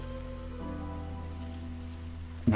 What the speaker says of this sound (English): The rain is gonna suck the fun out of this